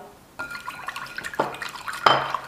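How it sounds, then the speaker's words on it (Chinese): Milk, 310 grams, is poured into a large bowl, giving close, soft liquid splashes and drips with a few brighter splatter bursts. "大盆中放入310克的纯牛奶"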